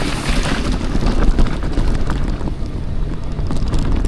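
An off-road vehicle engine labors up a hill in a higher gear near an old coal camp in Glen Alum, West Virginia, a steady loud rumble mixed with rough wind buffeting and jostling noise throughout.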